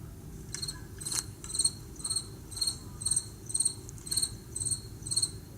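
A cricket sings in steady, regular chirps, about two per second, close and clear over a faint low rumble.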